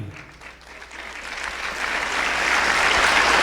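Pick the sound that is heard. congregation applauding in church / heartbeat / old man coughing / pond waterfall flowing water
congregation applauding in church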